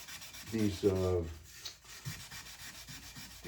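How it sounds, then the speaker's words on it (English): Sandpaper rubs in short rasping strokes over the factory emblems on a painted goalie mask, close and fairly quiet, with a few softer scrapes after a brief pause. "I just rather just sand it off. They do sand right off."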